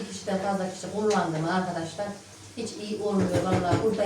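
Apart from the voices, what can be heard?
None of the usual background noises is heard.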